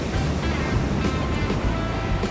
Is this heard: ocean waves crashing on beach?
yes